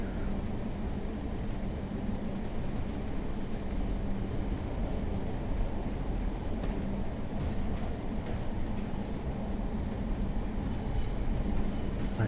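Simulated train rolling along rail tracks near Manchester Piccadilly in a train simulator game, a steady continuous low rumble with faint rhythmic clickety-clack of wheels over rail joints throughout.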